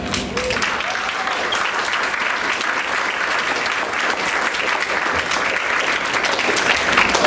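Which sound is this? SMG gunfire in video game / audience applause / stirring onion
audience applause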